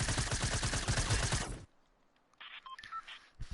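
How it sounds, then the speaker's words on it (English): Rapid bursts of video game gunfire rattle loudly for about a second and a half, then cut off into near quiet broken by brief electronic beeps and tones. "Why are you shooting at me?"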